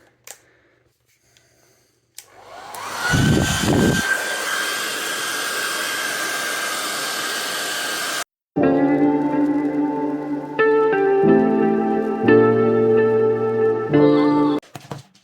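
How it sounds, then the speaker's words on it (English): A hair dryer blows loudly and steadily for about six seconds on a Samsung Galaxy S21 during a charge port replacement before cutting off, followed by a different droning, shifting tonal hum. "So I'm going to get the hairdryer on it"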